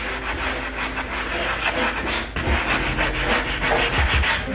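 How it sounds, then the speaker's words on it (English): Wood being sanded by hand during a house renovation, a continuous close scratchy rubbing in repeated back-and-forth strokes with no talking. "I'm gonna try and sand it by hand over here"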